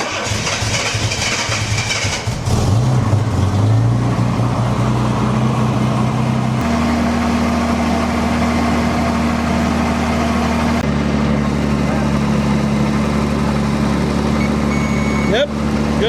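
An old Jaguar barn-find car, sitting unused for 20 years, runs with a steady idling rumble after a shift in pitch early on, while people talk over it.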